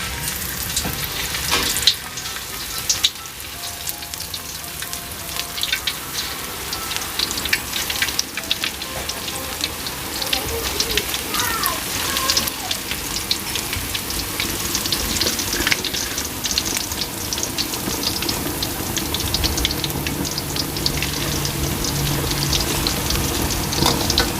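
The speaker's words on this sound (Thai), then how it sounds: "เสร็จแล้วเราก็ทอดกระทะต่อไปเลยนะคะ" Salted banana chips frying in hot oil in a pan, a steady crackling sizzle throughout with occasional stirring scrapes and clatter, close and fairly loud, with no talking.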